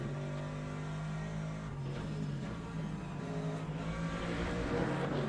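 Race car engine in the sim racing game Le Mans Ultimate, steady droning tone rising in pitch as the car accelerates after a short shift to second, moderately loud and alone.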